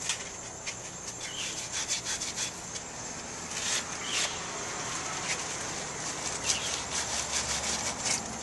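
Steady scratchy scrubbing of a drywall sanding block against a corroded ignition coil post on a 1991 Jeep Wrangler YJ, continuous with faint irregular strokes over a hissy background.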